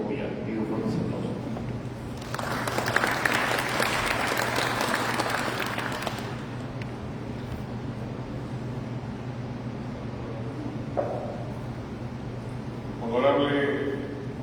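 Applause from a seated audience at a maritime symposium in the Congress of the Republic, a dense burst of clapping lasting several seconds, with a speaker's amplified voice before and after.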